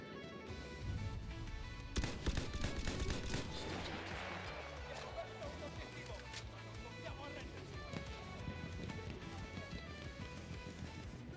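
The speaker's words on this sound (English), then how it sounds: "Where are those shots from?" Distant gunfire and bursts of shots in the video game Battlefield 1, crackling under steady background game noise while someone talks over it.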